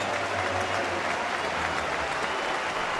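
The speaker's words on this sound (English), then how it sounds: "We should get a great ovation here from another sellout crowd" A sellout crowd at a Dodgers–Twins baseball game in Minnesota applauds the departing pitcher, Baker, with steady, dense clapping that fills the stadium continuously from start to finish.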